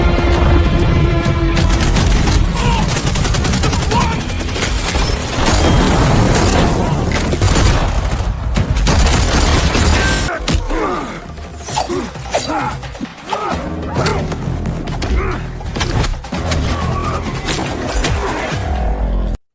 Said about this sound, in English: A gunfight immediately breaks out.